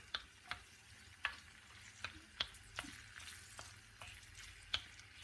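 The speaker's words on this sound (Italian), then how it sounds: "La salsiccia dovrà cambiare colore, da rosso dovrà diventare marroncina. Lasciamo cuocere." Crumbled sausage cooks in a pan with a quiet, slow sizzle, punctuated by a dozen or so sharp, scattered crackles and pops.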